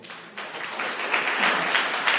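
A church congregation breaks into applause during a sermon, building quickly into dense, sustained clapping that stays loud and fairly close.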